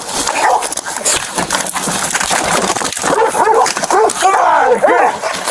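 Several dogs bark, yelp and whimper in an agitated, continuous jumble during a tense animal welfare check, close and loud, with people shouting over them.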